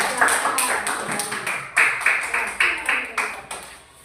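A class of fifth-grade children clapping for a group of classmates, loud rhythmic claps in a steady beat, close and filling the room.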